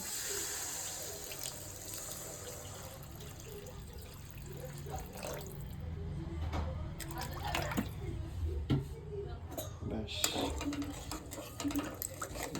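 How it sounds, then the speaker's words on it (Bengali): Water pours into a pan of fish curry with potatoes to make a thin gravy, a steady close liquid splash and trickle with scattered clinks, no voices. "দিয়ে দিচ্ছি পরিমাণ মতো ঝোলের জন্য জল"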